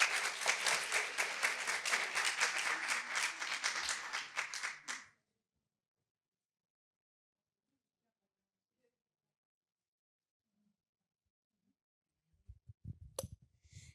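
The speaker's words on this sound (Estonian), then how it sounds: "Ja aplaus, julgustame!" An audience at a business pitching event applauds loudly for about five seconds, a dense wash of many hands clapping that cuts off abruptly into silence, followed later by faint handling noises.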